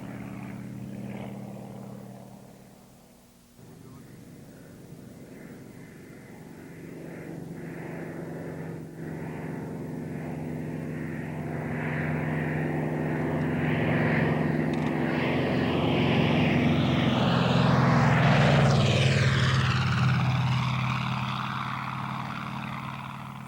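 A Zero fighter with a Sakae radial engine drones overhead, its propeller hum building steadily louder as the plane nears, peaking in a sweeping pass with falling pitch before easing off, heard alone without talk.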